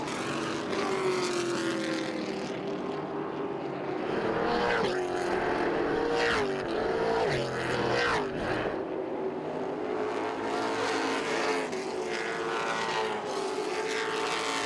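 Chargers-division race cars roaring around Southern National Motorsports Park, a steady loud engine drone swelling as cars pass in close succession.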